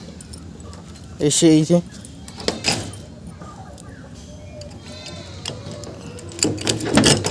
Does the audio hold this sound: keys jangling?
yes